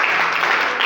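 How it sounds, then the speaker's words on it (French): A congregation applauds and cheers during a church service, a loud, dense burst of clapping and voices filling the whole brief moment. "Est-ce que vous pouvez acclamer pour cette parole?"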